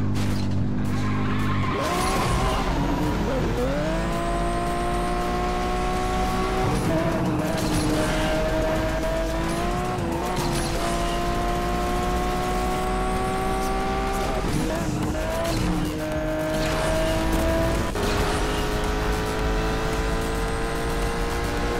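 Race cars in Asphalt 8: a loud, sustained engine roar rising and falling through gear shifts, with tire squeals and skids throughout and a brief impact, racing continuously and up close.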